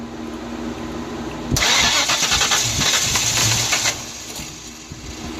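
A 1994 convertible's engine cranks for a couple of seconds with a rapid, rhythmic starter whir but does not catch, then falls back to quiet.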